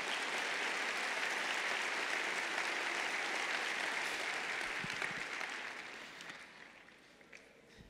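A church congregation applauds during a sermon, a full, sustained wash of many clapping hands that stays even for several seconds before gradually dying away.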